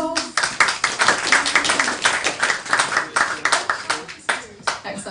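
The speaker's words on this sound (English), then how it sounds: "Round of applause." A round of applause from a small audience at a film screening Q&A, close, distinct hand claps in an uneven patter that thins toward the end, with some talking mixed in.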